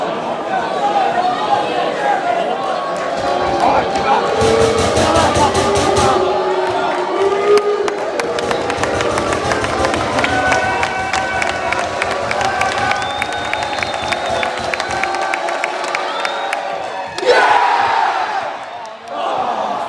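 A football crowd at Gateshead versus Eastleigh roars in celebration of a penalty save, a loud sustained swell of cheering and shouting that carries on for many seconds before easing at the end.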